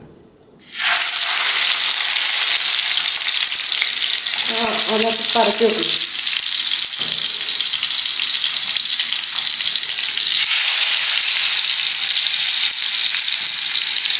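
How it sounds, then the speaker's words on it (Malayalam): Fish frying in a pan: a loud, steady sizzle starts abruptly and hisses without pause, with a brief tonal hum partway through. "നമ്മൾ മീൻ അങ്ങോട്ട് പൊരിക്കാൻ വേണ്ടി വെക്കാൻ പോണേണ്"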